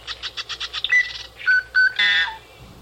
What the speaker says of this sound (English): you hear a little bit of all kind of birds howling